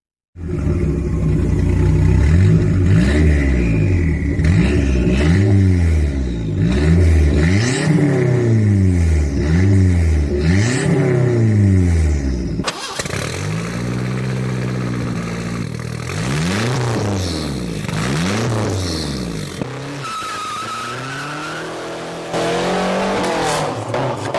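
Ford Mustang GT muscle car engine revving loudly and repeatedly in rising and falling sweeps, close by, with a brief cut midway before more revs and a higher whine at the end; no voices.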